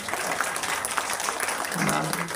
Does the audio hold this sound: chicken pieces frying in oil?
no